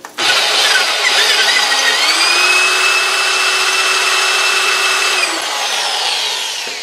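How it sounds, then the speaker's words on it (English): A right angle drill bores through steel on a Model T go-kart brake part, a continuous high whining motor drone that holds steady for several seconds before slowly winding down. "we'll finish drilling it through"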